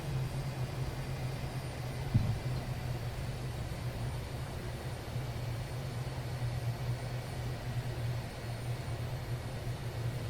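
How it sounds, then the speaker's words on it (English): An airliner taxis up to the terminal at Washington Dulles, heard from inside as a steady low engine hum and cabin rumble, even and continuous, with a single faint thump early on and no talking. "So we've just taxied up to the terminal."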